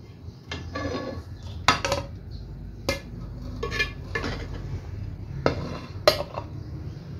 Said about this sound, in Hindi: अब मैं इसको डिश आउट